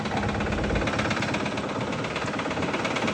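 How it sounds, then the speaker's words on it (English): A Dodge pickup's 6.7 Cummins diesel engine with a bottom end knock runs steadily at idle. It gives a close, rough mechanical rumble with a faint repeating tap inside it, and no voices are heard. "this Dodge has got a bottom end knock, as you can hear"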